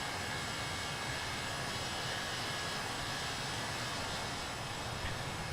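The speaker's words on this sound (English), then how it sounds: "at least we have the sound of the engines" Jet airliner engines hum in Microsoft Flight Simulator 2020 on a flight from Brussels to Edinburgh, a steady, unbroken broadband roar with a faint high whine, constant in level with no other sounds.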